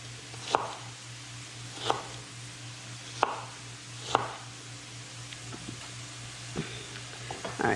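Knife chopping through shallot on a cutting board, a handful of sharp, evenly spaced cuts close to the mic over a low kitchen hum, with a few lighter taps toward the end.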